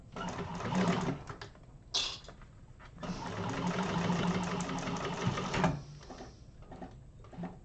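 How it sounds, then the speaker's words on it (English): A sewing machine runs in bursts while a seam is stitched, with a loud, rapid chattering run in the middle and short stops and restarts before and after. "You can't watch me and sew at the same time."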